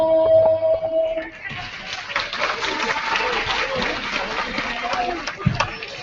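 A baseball stadium crowd applauds after the national anthem, a broad, even rush of distant clapping and cheering that follows a fading sustained tone, with a voice briefly heard.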